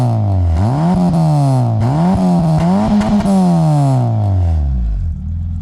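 A warm Peugeot 205 injection engine revs up and down in several rising and falling sweeps, loud and close, then drops back toward idle.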